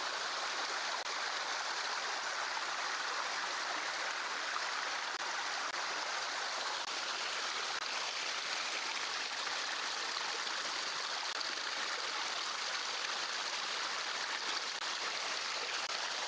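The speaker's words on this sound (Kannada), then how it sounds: "ಇವತ್ತು ತಾನೇ ನೀರು ಹರಿತಾ ಇದೆ." Steady, even rushing of a stream flowing below a waterfall, a continuous broadband wash of water with no voices and no breaks.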